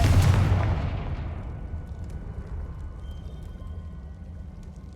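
A Confringo blasting spell explodes in Hogwarts Legacy with a loud, broad boom that decays into a long rumbling tail, while faint ambient sounds linger.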